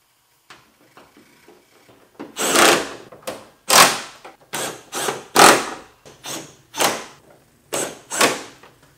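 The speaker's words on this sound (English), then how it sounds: "And now the only job left is to reinstall the screws." Screws are reinstalled on an AE86 car with a ratcheting driver: repeated short bursts of ratchet clicking and whirring, close and fairly loud, separated by brief pauses.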